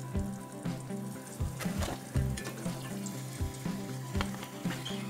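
Tofu deep frying in hot oil gives a continuous crackling sizzle with bursts of popping and occasional stirring clatter, close up and without talk.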